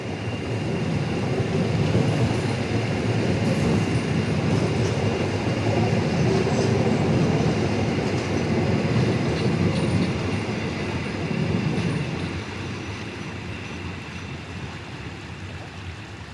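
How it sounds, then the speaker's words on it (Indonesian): Argo Bromo Anggrek passenger train rolls into Purwokerto station, a loud sustained rumble of wheels on rails with faint clickety-clack that eases slightly toward the end. "Kereta api Argo Bromo Anggrek memasuki stasiun Purwokerto."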